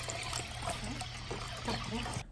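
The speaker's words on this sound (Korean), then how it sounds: "깨끗하게 씻어서 물기를 조금 빼주세요." Water trickles and pours steadily while green onions are rinsed clean in a kitchen, with people talking over the continuous splashing.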